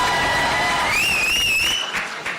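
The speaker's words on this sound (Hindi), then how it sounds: "एक बार जोरदार ताली होनी चाहिए." Audience applause at a Pathaan film event: a dense, steady wash of clapping from a large crowd with shrill whistles rising over it, thinning out near the end.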